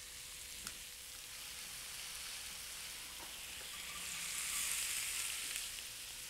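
Onions frying in butter in a pan, giving a continuous soft hiss of sizzling that swells slightly toward the end, with a couple of faint clicks and no talk.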